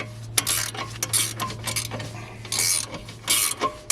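A ratchet spanner and socket tightening a BMW F30 front brake caliper, with close, crisp bursts of rapid metallic clicking separated by short pauses as the handle is worked back and forth.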